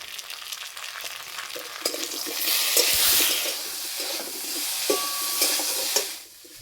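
Ground spice paste with turmeric sizzles and fries with potatoes in a pan, a close, crackling hiss that swells and fades as it is stirred.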